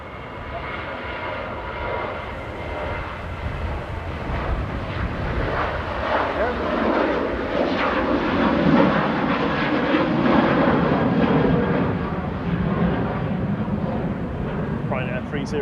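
Ryanair jet airliner engines roar loudly at Manchester Airport, a broad sustained rush that swells and holds as the plane passes.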